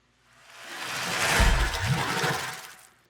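A bathtub sound effect sample used as a drum-production layer swells into a dense, broadband whoosh with a deep boom near the middle, then fades over about three seconds, heard alone.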